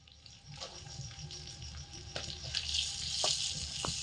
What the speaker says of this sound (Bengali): পেঁয়াজগুলোকেও হালকা লাল করে ভেজে নেব